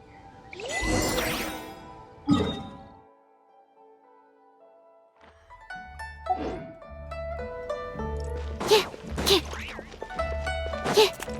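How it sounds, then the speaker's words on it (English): A cleansing bell rings in the Genshin Impact video game, bright metallic dings and tinkling strikes over a soft musical score, a few separate hits early then a denser run of chimes toward the end. "Indeed, this is the cleansing bell."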